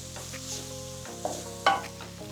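Food stirred in a pan over low heat with a faint sizzle, a few soft scrapes and clacks of the utensil standing out near the end.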